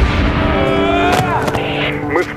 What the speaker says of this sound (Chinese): 双方的交火十分激烈